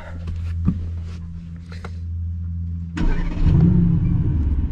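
A 2020 Mercedes-AMG GT R Pro engine starting: a low idle hum with a few clicks, then a sudden loud starter crank and burst of engine revving that settles into a deep, close rumble.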